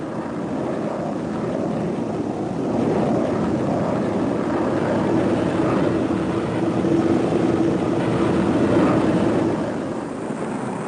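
Lockheed Constellation propeller airliner engines hum in a steady, loud, broadband drone that swells slightly midway and holds for the whole stretch, with no voices.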